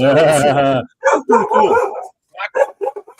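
A dog barks and yips in quick bursts, close and loud, with a few whimpering notes mixed in, while people talk nearby.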